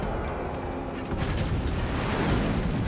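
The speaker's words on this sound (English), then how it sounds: "the mortars fly and just strip Bruce of all of his upper level defenses" Mortar volleys firing in the video game Forts, a dense rolling barrage of thumps and booms with scattered sharp cracks, continuous and fairly loud for the whole stretch.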